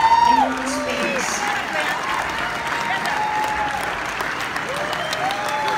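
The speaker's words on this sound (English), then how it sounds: "I think we ought to get the people to give him a nice round of applause." An audience at a live music show applauds in a dense, continuous wash of clapping and some cheering, with someone speaking over it through a microphone.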